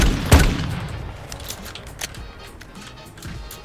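Video game gunfire cracks sharply once, loud and close, followed by a few fainter scattered shots and faint snaps over a low background hum.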